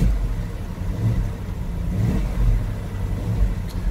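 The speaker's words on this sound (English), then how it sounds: "we'll see that the valve stroke's very low until we press the throttle" A BMW engine revs up as the throttle is pressed, a steady low mechanical drone with swells of revving, close and fairly loud, with no talking.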